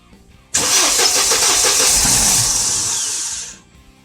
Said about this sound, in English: now take your foot off the gas pedal. And then give it a crank.